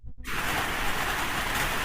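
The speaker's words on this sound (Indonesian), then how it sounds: "Di tempat Kak Michael sedang hujan deras kayaknya ya?" Heavy rain pours steadily as a dense, even hiss that starts abruptly after a brief quiet moment and continues without pause, with no voices.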